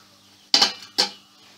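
A metal spoon scrapes and clinks twice against a cooking pot while turmeric is stirred into an egg curry. Two sharp, close knocks about half a second apart, each trailing off in a short scrape, over a quiet background.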